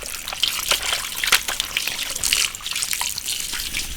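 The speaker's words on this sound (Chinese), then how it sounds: "把血水洗干净了，直接炒。" Water runs steadily from a tap as raw farm chicken is washed by hand in a rural kitchen, with splashing, trickling and small knocks close by and no talking.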